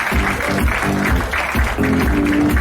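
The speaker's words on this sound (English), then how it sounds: "Big round of applause, ladies and gentlemen." Audience applause at a film trailer launch event, a steady wash of many hands clapping with a pulsing rhythm, loud and close.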